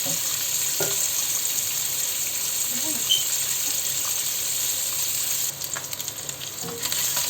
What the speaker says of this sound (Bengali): আর এই যে এখন আমি ডিমগুলো ভেজে নেব।